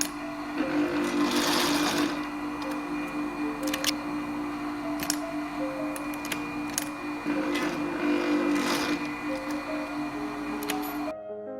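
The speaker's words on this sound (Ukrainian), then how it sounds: "і настрочуємо нашу ліпучку" A sewing machine stitches a velcro fastener strip, its needle running in a fast steady mechanical whir with brief pauses and clicks, close and continuous throughout.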